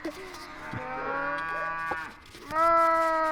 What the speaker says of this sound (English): Everybody's mooing.